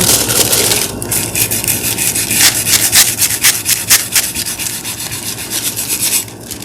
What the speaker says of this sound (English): Get in here a little bit and scrub.